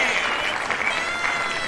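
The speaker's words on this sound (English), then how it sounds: "Oh, your applause are so appreciated." Steady applause from an audience, an even wash of clapping lasting under two seconds without a break.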